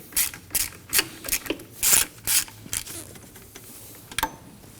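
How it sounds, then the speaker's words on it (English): A ratchet loosens the tensioner bolt on a 2003-2006 Subaru Baja engine, giving several loud, close bursts of rapid clicking with short pauses between strokes and no talking. "Now we can go ahead and start to loosen up the tensioner bolt."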